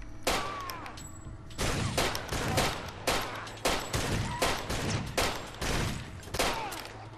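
Gunfire in Far Cry 2 rings out as repeated loud bursts, a fusillade of sharp shots in irregular clusters with brief gaps between volleys, close and dominant without talk.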